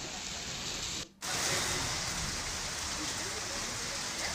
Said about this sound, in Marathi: पुण्यामध्ये पावसानं दमदार हजेरी लावली आहे